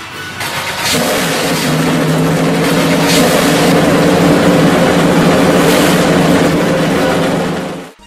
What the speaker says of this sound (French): démarrez vos moteurs